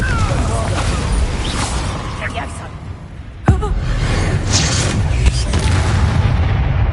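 A Confringo blasting spell explodes in the Hogwarts Legacy video game, one sharp loud boom cutting through a dense wash of game noise and effects.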